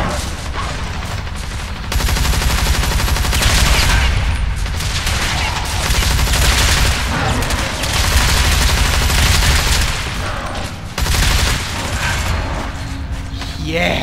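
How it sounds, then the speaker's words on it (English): Sustained roaring bursts from a flamethrower in the shooter game ZMR: Zombies Monsters Robots, loud and close, mixed with other combat noise and heard under excited player talk. "I love the flamethrower."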